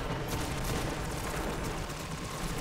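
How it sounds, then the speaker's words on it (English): A single booming cannon-like Golden Gun shot fired in the video game Destiny, loud and dense with a rumbling tail filling the whole moment, with no talking over it. "it condenses every single one of your golden gunshots into a singular shot and ups the"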